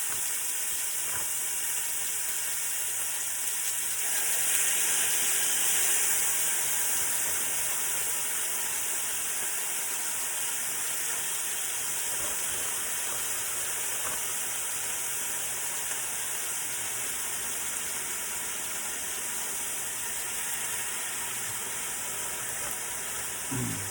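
Stir-fry strips sizzle steadily in a pan with a little extra virgin olive oil, giving a constant, even hiss with no pauses that holds for the whole stretch, fairly loud and with no talking.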